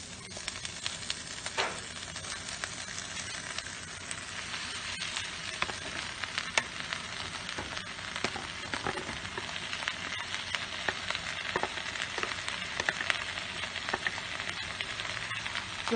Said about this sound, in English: As they start to look brown, I'm going to add in the spinach.